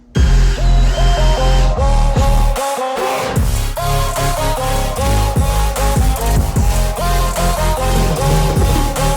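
A power drill drives screws into the seat supports of a jon boat, loud and close. The motor revs in repeated pulses with a brief pause partway through.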